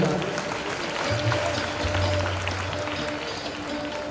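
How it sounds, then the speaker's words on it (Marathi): Applause from a crowd, a steady wash of clapping that holds for several seconds at moderate distance, with no talking over it. "जोरदार टाळ्या झाल्या पाहिजेत"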